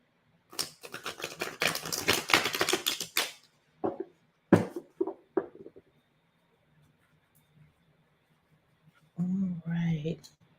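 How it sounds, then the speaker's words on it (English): Tarot cards are shuffled in quick riffling bursts, followed by a few scattered taps of cards, with a short stretch of talk at the end. "I'm going to give my cards a good shuffle for you."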